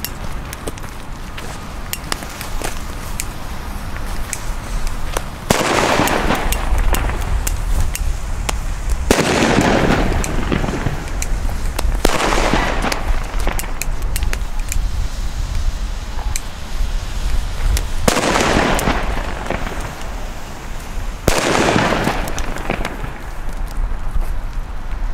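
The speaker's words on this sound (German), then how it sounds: "Weiter geht es mit den Funke Super Böller 2 aus diesem Sortiment." Funke Super II firecrackers go off outdoors, five or six loud, sharp bangs arriving at irregular intervals over steady background noise, with no voices.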